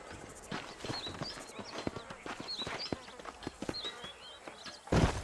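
Horse hooves clip-clop in a steady walking rhythm in the Red Dead Redemption video game, with light bird chirps around them and a sharper noise burst near the end.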